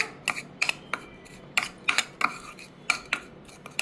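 Homemade hair dye paste being stirred in a bowl, a spoon clinking and scraping against the sides in irregular, fairly quiet taps.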